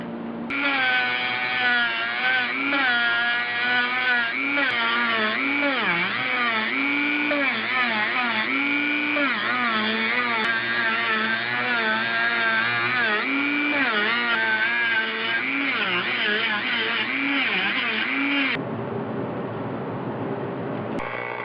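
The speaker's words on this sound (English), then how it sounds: "give them a really quick buffing with these little sanding discs" Small sanding discs on a rotary tool whine steadily while buffing welded metal ports on a fabricated intake manifold for a 1976 Mazda RX-5 Cosmo, with the pitch wavering under load before cutting off near the end.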